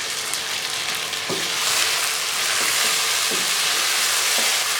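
Chicken karahi with yogurt being stir-fried in a wok, a loud close hiss of frying with periodic scraping stirs of a spoon against the pan every second or so.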